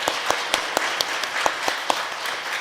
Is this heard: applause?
yes